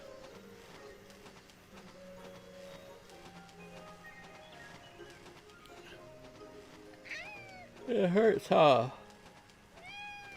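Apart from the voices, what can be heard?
cat meowing loudly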